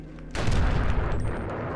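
A grenade fired from an axe in Eternal Darkness: Sanity's Requiem, a sudden heavy boom that hits after a quiet moment and then rumbles on, loud and close.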